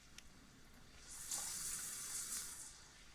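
A shower running in a Sims video game: a soft, hissing spray of water starts about a third of the way in, holds steady, then thins out, faint against quiet background noise.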